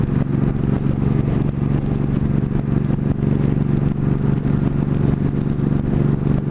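Motorcycle at speed as the rider looks for sixth gear, a continuous buzzing engine drone mixed with rushing wind noise, steady and loud throughout.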